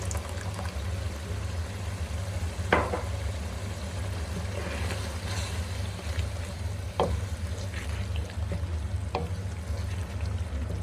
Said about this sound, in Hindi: दही के साथ हम इसकी अच्छी तरह से बुनाई करेंगे।